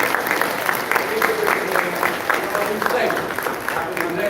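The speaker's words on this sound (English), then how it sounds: "Let's give them a round of applause." Steady applause fills an event honoring Fred Gray in Tuskegee, a continuous dense patter of many hands clapping at moderate volume throughout, with crowd noise mixed in.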